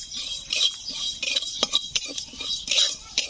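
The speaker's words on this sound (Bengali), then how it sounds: "মশলাটা ভালোভাবে ভেজে নেব, হালকা নাড়াচাড়া দিতে দিতে যাতে পোড়া না লাগে" A spoon clinks and scrapes in a pan while coriander, fennel, cumin, mustard and fenugreek seeds are dry-fried for a star fruit pickle, with quick close metallic taps and a faint sizzle.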